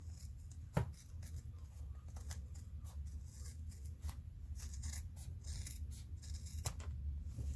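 Scissors cut fabric for a small sewing pouch, giving quiet, crisp snips in an uneven series. One sharper cut stands out early, and the rest continue as light, rapid clicks close to the listener, with no voices.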